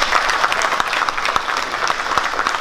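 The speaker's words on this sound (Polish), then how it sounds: "Zapraszamy Piotra, wielkie brawa." An audience applauds at a police traffic-officer award ceremony, a thick, continuous patter of many hands with occasional louder individual claps standing out close by, steady from start to finish.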